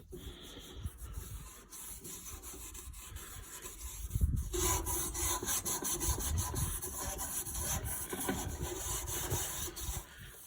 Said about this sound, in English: try rubbing a spot on this car